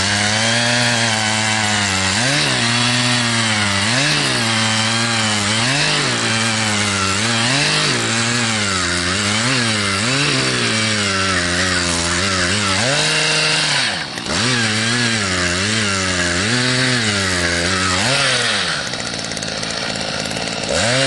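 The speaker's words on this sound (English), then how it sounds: "The reason I use the auger, in my opinion, is it's quick" A power auger bores a dirt hole for a coyote trap set, its small two-stroke engine revving up and down in repeated surges, loud and close, with digging strain as the bit works into the soil.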